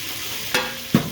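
Swordfish pieces fry in a pan with a steady, close sizzle, broken by two sharper crackling bursts, the second louder and lower; no one speaks.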